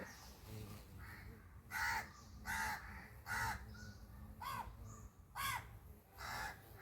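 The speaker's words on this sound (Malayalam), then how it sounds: "വേഗം കഴിക്ക് കാക്കയൊക്കെ വന്നിരിക്കുന്നു" Crows caw outdoors near feeding pets, giving about seven or eight loud harsh calls at an uneven pace over a quiet background.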